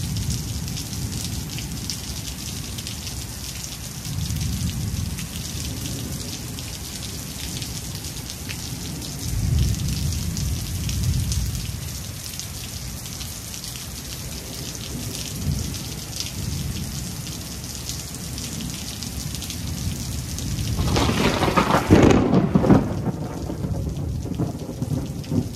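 Steady rain pours down with low rolling thunder swelling in and out, then a louder crack and rumble of thunder near the end, with no voices.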